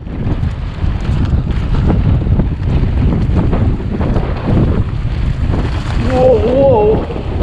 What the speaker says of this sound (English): That wind's crazy, mate.